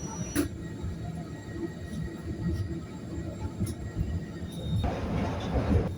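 A Glasgow Subway train rumbles and hums as it runs into Hillhead station, a low throbbing rolling noise that rises in brightness near the end as the train arrives.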